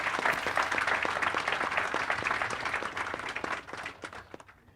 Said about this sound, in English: So, big round of applause for the summit.